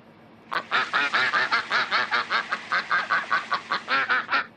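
Duck quacking in the PC game I Spy: Mystery, a loud, close run of about eighteen rapid, evenly spaced nasal quacks with no talking.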